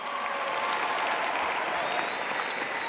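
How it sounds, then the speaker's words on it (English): Sustained applause from a large audience at a high school graduation ceremony, a dense even wash of clapping held throughout, steady and moderately loud. "Give your hands a round of applause."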